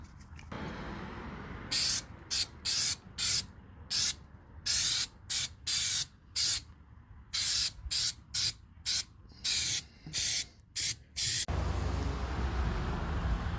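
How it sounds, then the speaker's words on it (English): An aerosol can of Flex Seal sprays onto bare wood of a speaker cabinet in about a dozen short hissing bursts of uneven length, separated by brief pauses, close and loud. "Just finished spraying the Flex Seal on the bare wood parts."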